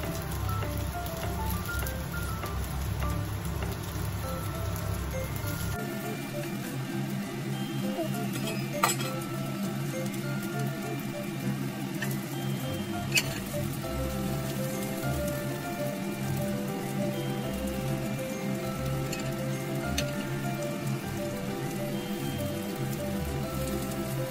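Food fries in a pan with a dense, crackling sizzle like heavy rain, joined by occasional clinks of metal utensils against cookware.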